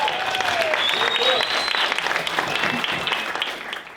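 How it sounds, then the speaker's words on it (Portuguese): A large crowd welcomes the speaker Luiz Santos at a business conference talk with steady, loud applause that carries on throughout, joined by a few cheers and whoops. "vamos começar com a intensa e forte salva de palmas para Luiz"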